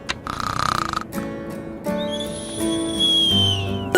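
Animated cartoon snoring from a sleeper at a girls' sleepover, a drawn-out wheezing, whistling tone with harmonic rasp that swells over a few seconds, fairly quiet with no talking.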